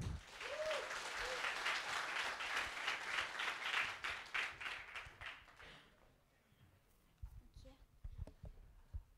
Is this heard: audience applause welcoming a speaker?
yes